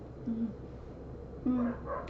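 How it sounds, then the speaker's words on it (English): Dogs indoors in a home let out two short, quiet barks about a second apart, faint against room noise. "Apologize for the demon dogs again."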